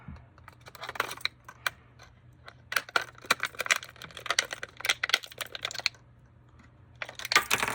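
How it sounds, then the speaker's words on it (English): Scissors snipping through plastic clamshell packaging to free a fishing crankbait lure, a string of sharp irregular clicks and crinkles, close and fairly loud, with short pauses between cuts. "We'll have to give it a little snip here."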